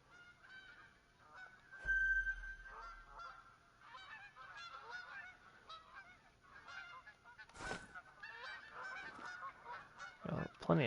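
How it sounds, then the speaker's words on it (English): Flock of geese honking in the hunting video game theHunter: Call of the Wild, faint and distant, a steady scatter of honks over quiet outdoor ambience with little talk. "Got plenty of geese up over there."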